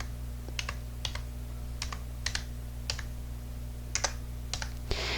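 Keystrokes tapped on a computer keyboard in short bursts of a few clicks each, close and fairly crisp over a steady low hum, with no talking.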